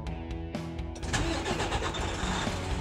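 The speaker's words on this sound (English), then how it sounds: "Allow the gauges to sweep for about 8 seconds before starting." A truck with a DT12 transmission goes through a few dash clicks, then the engine cranks and catches after about a second. It settles into a loud, steady running rumble close by, with no talk.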